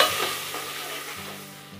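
Onion fries in a pan for lauki pulao, a steady close sizzle with stirring that fades slightly over its short length.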